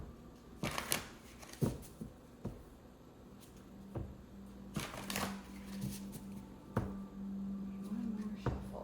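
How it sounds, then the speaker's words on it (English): Tarot cards are shuffled by hand in a series of soft riffling slaps and flicks, irregular bursts spaced a second or so apart, close up in a quiet room with a faint steady hum underneath. "One more shuffle."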